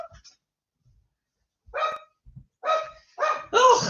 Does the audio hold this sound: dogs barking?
yes